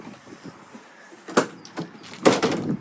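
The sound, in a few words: opening Truckman rear cover on Ford Ranger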